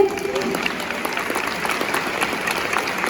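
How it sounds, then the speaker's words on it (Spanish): An audience applauds the editor of a book at a book presentation, steady dense clapping filling the room alone, with a faint voice briefly audible early on. "para la cual voy a pedir un fuerte aplauso"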